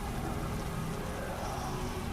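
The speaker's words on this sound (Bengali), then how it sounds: "বৃষ্টির শব্দ, ঝিঝির ডাক আর ব্যাঙের ঘ্যাঙর ঘ্যাঙর ছাড়া আর কোনো শব্দই নেই" Rain sound effect in a Bengali horror audio story, set on a pitch-dark rainy night: a dense, steady hiss of falling rain that fills the short stretch evenly and loudly, with no voices.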